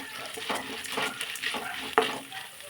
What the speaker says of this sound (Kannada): ಕಡಲೆಬೇಳೆ ಮತ್ತು ಉದ್ದಿನಬೇಳೆ ಎರಡು ಚೆನ್ನಾಗಿ ಕಲರ್ ಚೇಂಜ್ ಆಗೋವರೆಗೂ ಫ್ರೈ ಮಾಡ್ಕೊಳ್ತೀನಿ